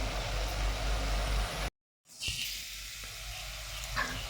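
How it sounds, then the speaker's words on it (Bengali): A bitter gourd masala curry sizzles and bubbles steadily in a pan, interrupted by a brief dropout, then continues more softly with a low background hum. "এটা ফুটছে"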